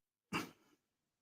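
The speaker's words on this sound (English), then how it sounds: "Sorry if I'm coughing a lot." A single short, sharp cough bursts out and fades quickly, alone in otherwise silent surroundings.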